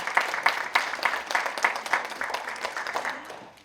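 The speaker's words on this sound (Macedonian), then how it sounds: "Ве молам за еден аплауз за нивното гостување во Скопје." Audience at a book presentation in Skopje giving a short round of applause, a moderate patter of clapping that thins and fades out within a few seconds.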